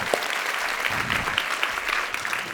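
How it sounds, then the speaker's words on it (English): A masterclass audience gives the pianist a dense, sustained round of applause, many hands clapping steadily together in a close, even wash. "Give her a big applause"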